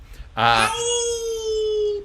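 A voice gives a drawn-out, wavering howl of pain that mimics a hurt cry. It starts with a sharp, loud burst, then holds a sustained, gradually falling tone for more than a second, close and alone.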